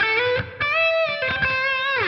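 Electric guitar played through a Line 6 Helix overdrive/distortion model, a short run of sustained, thick, thuddy driven notes with a bend at the end, close and unaccompanied.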